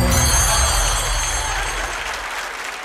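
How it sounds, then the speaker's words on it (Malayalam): A studio audience at a Malayalam TV comedy show claps loudly together, a dense burst of applause that gradually thins and fades over a few seconds. "നല്ലൊരു കൈയടി അഖിലേക്ക് കൊടുത്തേ."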